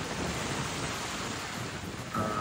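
Strong wind and surf roar at the Higatangan sandbar on a blustery day, a steady broadband rush of gusts and breaking waves with a faint tone near the end.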